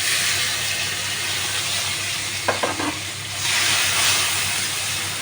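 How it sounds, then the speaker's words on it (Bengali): Tomatoes sizzle in a hot pan with fried spices and asafoetida, a steady close frying hiss throughout with a few brief stirring clatters midway and a swell of louder sizzling near the end. "টমেটোগুলো একটু ভাজা ভাজা হোক"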